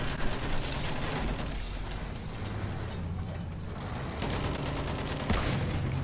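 Sustained machine gun fire from a Battlefield 1 World War I aerial battle, a continuous dense rattle of rapid shots lasting throughout with a brief surge near the end.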